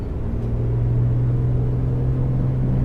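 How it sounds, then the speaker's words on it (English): A Piper Comanche engine advancing to full power in a flight simulator, a steady, loud low droning rumble with a constant tone that holds throughout, no voices. "Smoothly advancing the throttle until we get full power."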